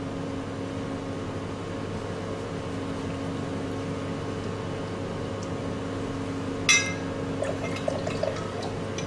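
Buffered solution rinsed out of a laboratory bottle into a measuring cylinder during a yeast beta-glucan enzyme protocol: soft liquid pouring and trickling over a steady room hum, with a brief sharper splash late on.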